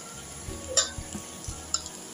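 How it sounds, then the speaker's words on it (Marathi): A spoon stirs raw jackfruit vegetable sautéing with coconut in a pan, giving soft scraping and light clinks at an irregular pace over a low background sizzle, close and fairly quiet. "आता भाजीमध्ये खोबरं घालून चांगली परतवून घेऊ।"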